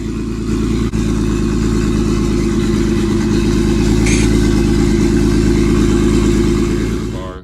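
A turbocharged BMW E46 330ci engine idles loud and close with a deep, steady mechanical drone and slight clatter, holding even before easing off at the end.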